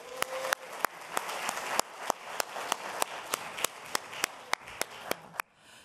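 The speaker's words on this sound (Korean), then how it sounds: "박수로 환영해 주십시오" Applause from an audience welcoming a Democratic Party lawmaker at a sports-community gathering: a steady wash of clapping with sharp, regularly spaced loud claps close by, cutting off abruptly near the end.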